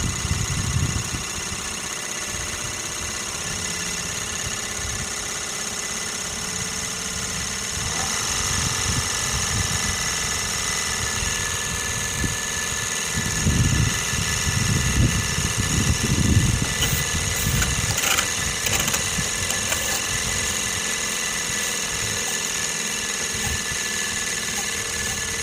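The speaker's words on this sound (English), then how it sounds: "the engine was running about 1800 RPM." A Sirius steam engine generator runs at about 1800 RPM, a steady close mechanical whir and chugging with constant high whine, continuous for the whole stretch.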